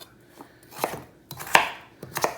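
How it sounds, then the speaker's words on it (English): Knife slicing seeded butternut squash into half moons on a board for soup, giving four or five crisp, separate chops at an uneven pace, close and fairly loud with quiet gaps between. "I'm just going to slice them into little half moons"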